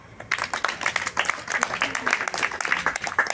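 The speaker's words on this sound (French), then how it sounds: "Applaudissez-la" A small audience at a karate class claps for a girl, with brisk, uneven hand claps that start abruptly and continue closely without a pause.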